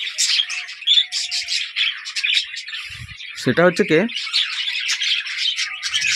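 Pet birds in a cage give a brief burst of squawking and high chirps beneath a person talking throughout.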